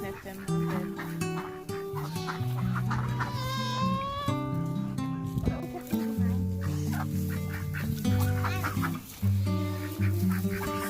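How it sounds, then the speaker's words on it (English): Ducks and chickens on a farm honk and cluck loudly in a noisy overlapping chorus, close by, while people talk over them. "those duckies and chickens are all so loud"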